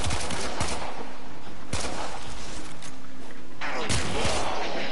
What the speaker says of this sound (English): I'm scaring them off with my pistol when I'm on the ground